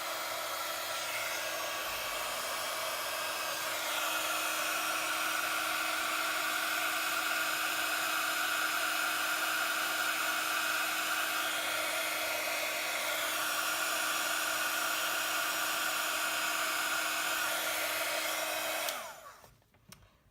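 A heat gun melts embossing powder on a handmade First Holy Communion card, giving a loud, steady blowing whoosh for about nineteen seconds before it switches off and fades away. No voices are heard.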